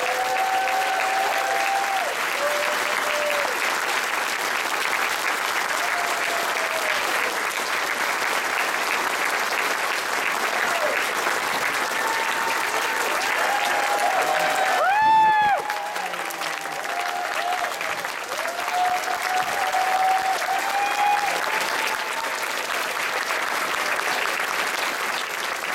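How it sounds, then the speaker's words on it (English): Sustained audience applause at a convention closing ceremony, a large crowd clapping steadily and loudly for the whole stretch, with scattered cheers and a brief louder burst midway. "So one more round of applause for Bob and Sandy and everyone."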